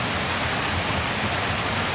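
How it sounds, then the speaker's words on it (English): Mountain stream in an alpine setting tumbling down over rocks in a series of small waterfalls, a dense, loud, constant rushing hiss heard close and alone. "This stream is really cool. It keeps tumbling down, so it's like all these mini waterfalls."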